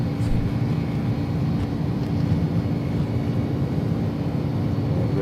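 Steady, loud roar of jet engines at takeoff thrust in an Airbus A300 flight simulator game, a continuous broadband rumble with no talking.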